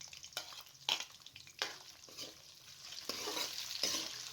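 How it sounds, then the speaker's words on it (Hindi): Potatoes frying in oil with spices in a kadhai, soft crackling sizzle punctuated by several sharp scraping stirs of a spoon against the pan, close and otherwise quiet. "2 से 3 मिनट तक आलूओं को फ्राई करना है"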